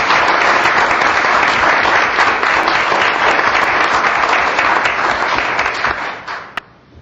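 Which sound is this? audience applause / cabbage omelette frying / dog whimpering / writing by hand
audience applause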